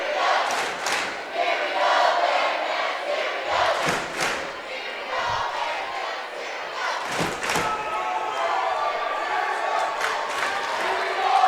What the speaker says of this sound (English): Bearcats making some noise. Milbank making some noise.